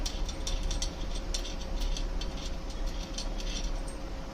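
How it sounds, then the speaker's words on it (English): Metal bolt being unscrewed during installation of a Galaxy GV-200/GV-100 digital viscometer, giving a steady run of quick, close ratcheting ticks and clicks against a constant low hum. "First, let's unscrew the bolt"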